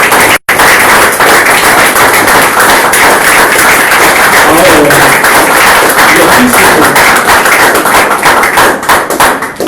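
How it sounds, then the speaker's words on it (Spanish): A church congregation applauds during a Spanish-language sermon, loud, close and sustained clapping that runs as a dense, crackling wash for nearly ten seconds after a brief dropout at the start. "quiero que usted le dé a mi Dios un aplauso"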